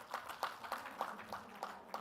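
Scattered, fairly faint clapping from a panel discussion audience, a handful of hands striking in loose rhythm roughly every third of a second, sounding thin and somewhat distant.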